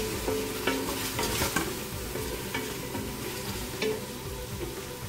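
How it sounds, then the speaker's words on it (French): Pot-au-feu with ras el hanout and cumin being stirred in a pot, a steady sizzle with soft scraping strokes of a spoon, close and continuous with no talking. "Je mélange."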